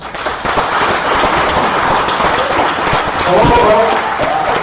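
A morning audience gives a speaker a big round of applause, a loud, continuous wash of clapping that carries on throughout, with one voice briefly speaking over it near the end.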